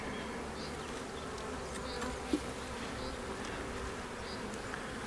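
Honeybees hum in a steady, low, faint drone around an opened hive during a spring inspection, with a single small knock partway through.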